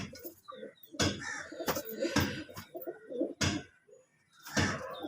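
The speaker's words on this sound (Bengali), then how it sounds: "এটা ধাড়ি একটা পায়রা" Adult Madras pigeon in a loft cooing close by in a series of low throaty phrases, broken by sharp clattering knocks and wing flutters.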